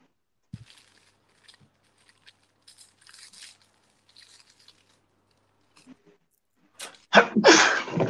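A sudden loud sneeze bursts out near the end after a stretch of near silence broken only by faint shuffles and small clicks.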